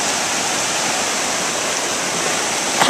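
A flooded river rushes past with big waves, a loud, steady, dense roar of churning whitewater filling the whole span without a break.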